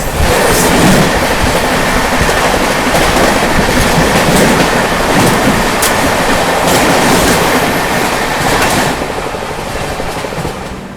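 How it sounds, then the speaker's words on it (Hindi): The 22535 Rameswaram–Banaras Superfast Express passes close by from the opposite direction, heard from a moving train during monsoon travel, as a loud, steady rush of wheels with rhythmic clickety-clack that fades slightly near the end. "सामने से आती हुई 22535 रामेश्वरम बनारस सुपरफास्ट एक्सप्रेस"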